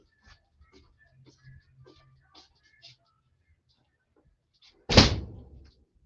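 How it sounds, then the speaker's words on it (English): A door is shut with one sharp, loud thud near the end of the clip, after a stretch of faint sounds. The door blocks loud music coming from outside on a warm day. "Hold on, let me close this door."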